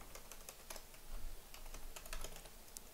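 Typing on a computer keyboard, a quick run of light, close key clicks in short bursts, fairly faint, with no talk.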